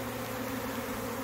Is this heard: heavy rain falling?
no